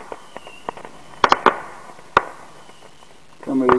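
Neighbor's Saturn missile fireworks go off at a distance, several sharp crackling bursts in a quick cluster followed by a lone pop, fairly loud over a quiet background.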